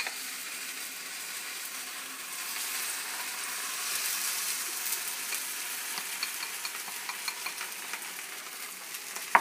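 Eggs frying in a pan with scallions for ramen egg foo young, a continuous bright sizzle that swells slightly midway, with faint stirring ticks toward the end and no voices.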